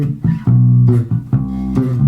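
Short bass guitar phrase from a bass solo, a few punchy plucked notes in quick succession, close and alone.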